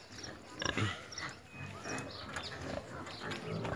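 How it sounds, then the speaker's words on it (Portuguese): A pig on a farm in the dry backcountry of Bahia, Brazil grunts in a few short, rough bursts at moderate distance, over outdoor ambience and some faint voices. "Porco, ali."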